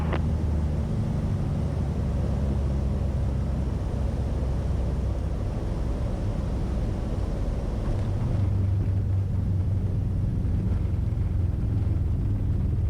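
A 1991 Beechcraft F33A Bonanza in flight, heard from inside the cabin as a loud, steady engine and propeller drone with a low rumble, shifting slightly in tone near the end.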